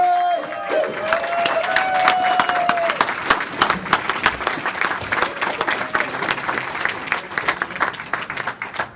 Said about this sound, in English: Big round of applause for Mr.